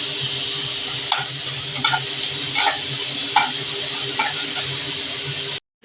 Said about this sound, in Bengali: আমি একটু পেঁয়াজটা কষিয়ে নেব দেখুন হাফ ইঞ্চি আদা বাটা দিয়ে দিচ্ছি